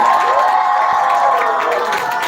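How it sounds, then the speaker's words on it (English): A large audience at a children's literature festival claps and cheers loudly and continuously after a performance, with whoops and shouts mixed into the dense applause. "Can we give her a big round of applause"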